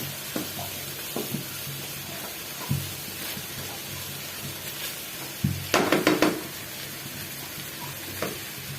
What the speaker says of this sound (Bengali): হাই ফ্লেমে আর কি ভেজে নিতে হবে